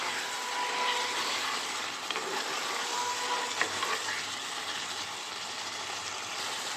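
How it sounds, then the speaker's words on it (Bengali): Boiled eggs fry gently with biryani spice masala in a pan, a constant soft hiss and crackle held at an even level for several seconds, with a faint knock or two partway through. "এবার ডিমটাকে একবার আলতোভাবে মশলার সাথে কষিয়ে নিচ্ছি।"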